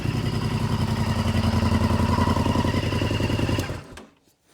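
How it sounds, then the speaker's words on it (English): Motorcycle engine running hot with oil burning on the exhaust, its steady mid-pitched idle clatter loud and close, then cut off near the end, dropping quickly into silence. "So what we're going to do now is just switch the engine off."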